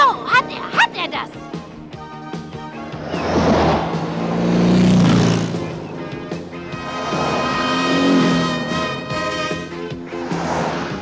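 A Popeye cartoon vehicle revs and whooshes away in two swelling engine surges, rising and fading over a bright musical score, with cartoon voices heard around it.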